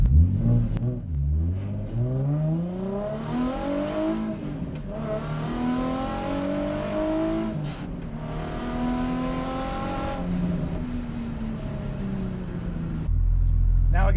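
A Nissan 350Z with a lightweight crank pulley revs while stopped, its engine note climbing and falling in three rising sweeps over a steady idle. Interior cabin sound, loud and close.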